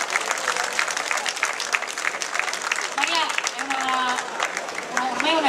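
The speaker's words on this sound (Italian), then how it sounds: "facciamo un applauso a Maria." Crowd applause at an outdoor votive float festival in 2022, a continuous, fairly loud burst of clapping lasting several seconds with voices and faint music threading through it.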